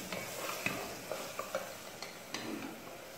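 Tomatoes sautéing in a pan for country chicken kulambu, a brief stretch of soft sizzling with several light scraping and tapping strokes from a spoon.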